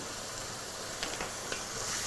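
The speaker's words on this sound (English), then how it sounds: "I'm going to add in my garlic and my tomato paste. Fry those very, very briefly" Garlic and tomato paste frying briefly with onions in beef fat for a lasagne, giving a steady, moderate sizzle with a few faint utensil scrapes and no voices.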